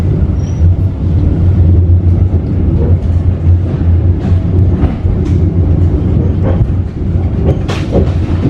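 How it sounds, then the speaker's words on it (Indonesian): The Tegal Bahari economy passenger train leaves Haur Gelis station, heard from inside the carriage as a steady loud low rumble with clicking wheels and rattles, with no talk. "Kereta api Tegal Bahari diberangkatkan dari stasiun Haur Gelis."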